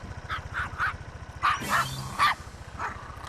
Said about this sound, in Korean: 오토바이를 향해 다가가자 더욱 격렬히 짖어대는데요